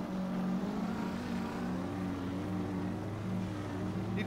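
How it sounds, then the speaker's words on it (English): A monster truck at a monster truck event spins its tires to warm them, its engine holding a steady, loud, droning roar with a constant tonal hum throughout, no voices over it. "He's just warming up his tires."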